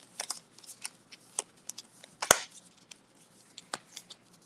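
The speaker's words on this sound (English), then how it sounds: "So now we have to shuffle the discard pile to get this through." A discard pile of cards from the Disney Villainous board game gets shuffled, giving soft papery riffles and taps in irregular bursts, with one sharper snap, close and quiet with no talking.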